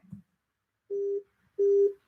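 A telephone line sounds after a caller hangs up during a live call-in show: two short, steady electronic tone beeps separated by silence, clear and close, after a brief faint thump.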